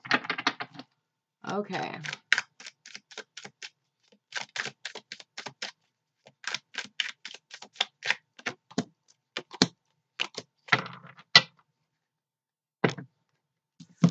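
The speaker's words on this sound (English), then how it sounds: "Let me get my stuff together here. Got cards flying everywhere." Tarot cards are handled and shuffled in quick, crisp bursts of flicking and slapping, with short pauses between, close by, and a brief spoken word at the start.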